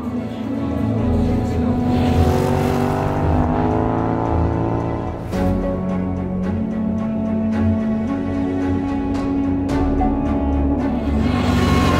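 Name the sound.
quads and SSV off-road vehicles driving in desert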